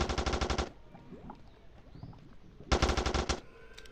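Automatic gunfire from a weapon in the mobile video game Rope Hero's zombie mode, two loud rapid bursts of evenly spaced shots separated by a quieter stretch of faint game noise.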